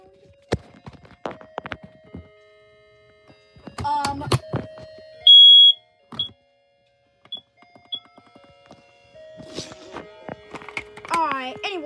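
A rare 2006 RK smoke alarm lets out one loud, sharp beep, then a few faint, scattered chirps as it dies, with people talking before and after.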